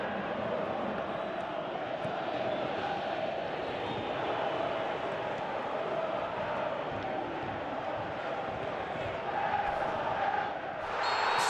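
Stadium crowd noise in the PES 2017 football video game, a steady distant murmur and roar of supporters that stays fairly even, lifting slightly toward the end.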